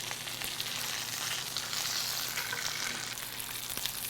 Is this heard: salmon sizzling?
yes